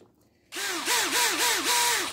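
A hand drill on low speed bores into a FAST LSXR 102 intake manifold held in a jig, starting with a sudden whir and then pulsing in four or five rising and falling bursts, loud and close.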